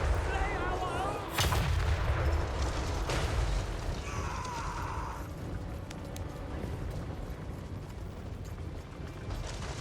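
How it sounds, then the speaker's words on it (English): A skull cannon artillery piece in Total War: Warhammer 3 booms in heavy, roaring blasts with mechanical clanks and ratcheting, then a lingering battle rumble; a voice talks faintly under the din. "I love listening to that artillery piece fire"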